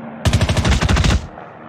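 An AKS submachine gun fires a rapid full-auto burst of about a dozen sharp, loud shots over roughly a second in the shooter game Call of Duty: Mobile, followed by a brief fading tail.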